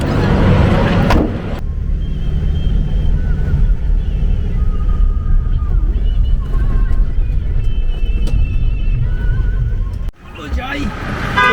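A car engine rumbles steadily throughout with a wind-blown hiss on a mountain road near Devprayag, then cuts off briefly near the end before resuming.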